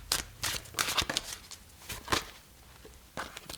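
Tarot cards being shuffled in a reading, giving a series of soft, papery riffling bursts and slaps, close and fairly quiet, with short pauses between the handfuls.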